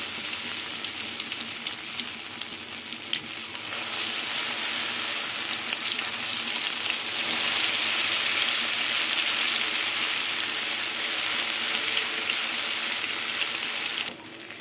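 Malabar spinach leaf and pea lentil fritters fry in hot oil over a gas flame, a dense steady hiss that grows louder and fuller after a few seconds as more batter goes in, with no talking.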